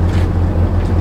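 A boat carrying a group to a fishing spot moves across the water, its engine a low steady drone under rushing water and wind, loud and close for about a second.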